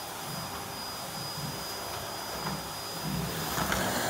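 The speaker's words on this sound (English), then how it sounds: "Time to vacuum the kitchen floor then." A vacuum cleaner runs over a kitchen floor in a video game, a steady whining motor drone with a slight rise in strength near the end, with no voices.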